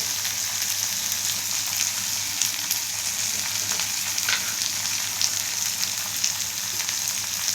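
Sliced onions frying in a pan with a pinch of salt, a loud, continuous close-up sizzle with small crackles and stirring, no voices.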